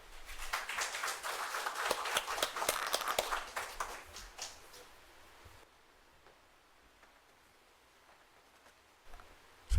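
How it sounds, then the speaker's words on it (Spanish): Audience applause at a book launch on Quechua wisdom as the basis of mental health in Peru, held by an arts and science academy. The clapping is loud and dense for about five seconds, then thins out to scattered claps and room noise. "Lo recibimos también con un fuerte aplauso."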